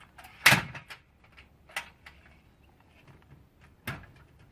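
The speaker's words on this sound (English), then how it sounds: "I'll close up the doors." The doors of a Hideawayz wheelie bin storage shed swing shut with a sharp, close bang, then two lighter knocks as they settle and latch, with quiet gaps in between.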